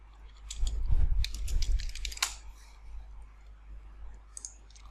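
Fingers tap out quick, irregular clicks on a computer keyboard, close and fairly quiet, thinning to a few scattered keystrokes over a low steady hum.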